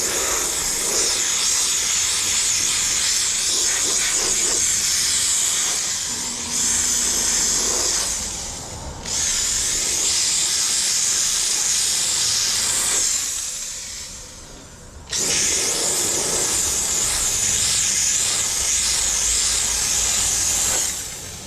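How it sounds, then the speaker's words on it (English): A steam cleaner sprays the exterior of a 2020 Ford Edge, giving a loud, steady hiss that runs for long stretches, breaks off briefly twice and then resumes. "Why would you steam clean a car like this?"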